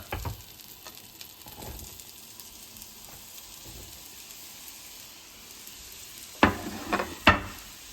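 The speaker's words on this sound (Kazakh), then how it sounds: "Пиязымызды бесіне деп пиязымызды салайық." Onions frying in oil in a breakfast pan give a steady, close sizzling hiss, then a few sharp clattering bursts near the end as they hit the pan or are stirred; no voices.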